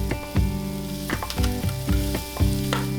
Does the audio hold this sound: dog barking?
no